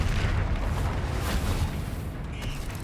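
A Confringo spell explodes in Hogwarts Legacy with a broad, rumbling blast that fades slowly over a few seconds.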